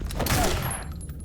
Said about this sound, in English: Shotgun trap.